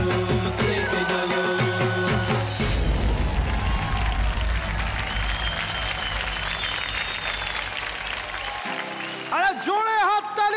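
A studio audience at a Zee Bangla television show breaks into loud, sustained applause that replaces the music at the start, holds steady for about six seconds, then gives way to a voice.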